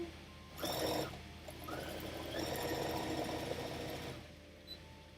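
A sewing machine stitches a fabric laptop sleeve with a zip, in steady close bursts of needle whirring separated by short pauses, with no talking.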